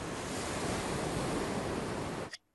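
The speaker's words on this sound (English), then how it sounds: "If you put a shell to your ear, you can hear the sea" A steady hollow rushing like sea waves heard with a seashell held to the ear, an even soft whoosh that cuts off abruptly at the end.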